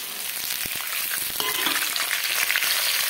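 Green peas hit a hot pan and fry for vegetable chowmein, making a close, steady sizzle that swells slightly toward the end, with a few soft stirring knocks and no talk.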